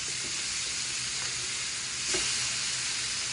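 Burger patties searing on a hot pan give off a loud, continuous hissing sizzle, close and steady, swelling briefly near the end with no talking.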